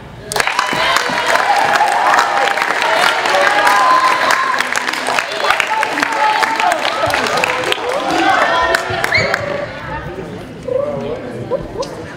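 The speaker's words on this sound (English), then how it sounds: "Can we have a round of applause for Miguel?" A crowd at a summer camp staff recognition event breaks into sustained applause and cheering, dense clapping with whoops and chatter running steadily for about ten seconds before tapering.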